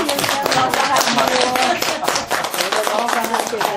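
Group clapping at a Buddhist meditation centre lecture in Seoul, a close, fairly loud rhythmic patter of hands running for a few seconds with some voices mixed in.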